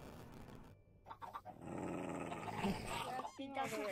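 A dog in a blocky survival video game growls and snaps in a short aggressive burst as it bites, mixed with game sounds and overlapping voices.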